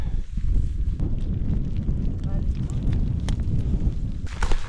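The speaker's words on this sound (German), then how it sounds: "Geht der Wind." Steady, rough wind noise buffets the microphone throughout on a cold, rainy bikepacking ride in Slovenia, loud and continuous with a low rumble.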